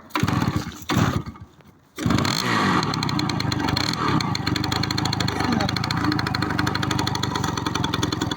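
An old moped's small two-stroke engine sputters briefly, cuts out, then starts and runs steadily with a rough, buzzing idle close by.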